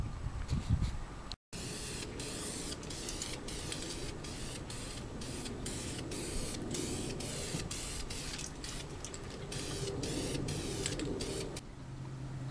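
Primer sealer sprayed from a spray can onto FZR motorcycle paint, a steady hiss broken into many short rhythmic bursts, close and fairly quiet.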